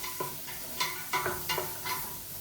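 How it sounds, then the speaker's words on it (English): Vegetables soften in a hot pan, sizzling steadily while a utensil stirs and scrapes them in several quick, evenly spaced strokes. "I am softening my vegetables here."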